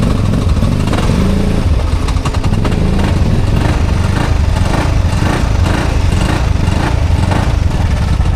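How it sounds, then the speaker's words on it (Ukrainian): A loud, steady engine drones up close as an ATV winch hauls a quad bike out of a swamp, with no talk over the constant mechanical roar. "Включаємо муфту свободної розмотки і починаємо працювати лебедкою."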